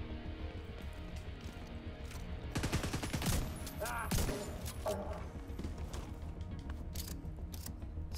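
Enemy gunfire in The Division 2, bursts of shots crackling around 2.5–4.5 seconds over a steady bed of game music and ambience, fairly close, with fainter pops later.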